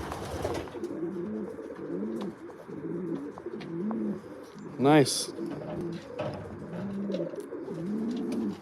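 Pigeons coo repeatedly in a loft, soft rhythmic calls near the microphone, with a sharp louder flutter or call midway and a brief spoken word.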